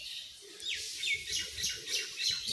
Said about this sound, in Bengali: ডাকো ডাকো পায়রা